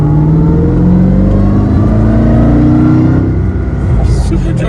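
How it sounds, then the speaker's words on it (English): A Mercedes SLR's supercharged engine roars loudly during a roll-on acceleration, a deep, rising drone with supercharger whine, close and dominant before easing slightly near the end. "the insane supercharger noise"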